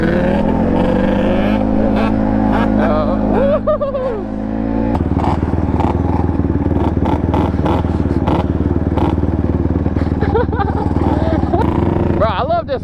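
Yamaha Banshee quads race nearby with their two-stroke engines revving and shifting in a steady, loud drone. A sport bike also runs in the race, and a person talks over the engine noise.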